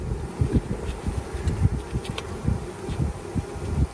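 Honey bees buzz steadily close by around nuc boxes and hive equipment, a dense continuous drone with individual insects passing near and away, no voices present.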